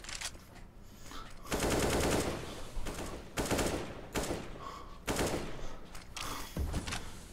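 AK rifle fire in a video game, heard as long loud bursts of rapid automatic shots with short gaps between them, close and dense, and no one talking over them.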